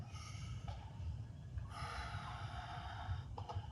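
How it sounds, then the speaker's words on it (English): Deep, steady breaths drawn in and let out during a stretching warm-up, close and fairly loud, with airy inhales and exhales over a low rumbling background and no talking. "While you're stretching, it's very crucial that you breathe, You want deep breaths"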